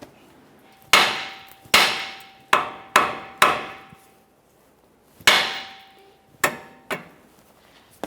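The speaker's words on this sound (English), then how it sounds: "we'll just continue on with a hammer, cause some vibration to break this free" A hammer repeatedly strikes the tie rod end on the steering knuckle of a 2011-2020 Toyota Sienna to shake it loose, landing sharp metallic blows with ringing decay, some in quick runs, others after pauses.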